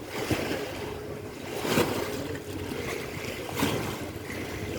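A passenger launch boat moving on a river, heard as a steady low engine rumble with water wash and wind. The sound stays moderately faint and continuous, with slight swells.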